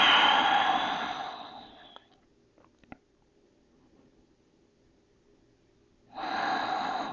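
Deep, slow breathing during a yoga stretch: a long, close exhale that fades, a stretch of near silence with a couple of faint clicks, then another full breath at the end.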